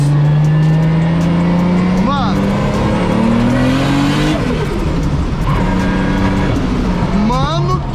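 A 500 hp Nissan 350Z driving on a street, its engine droning loudly from inside, revving up then dropping with gear shifts, while people talk excitedly over it.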